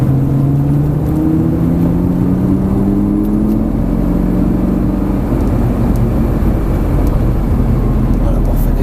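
A Lamborghini Gallardo accelerates out of a chicane on a track, its loud, close engine droning steadily with tones climbing as it pulls away.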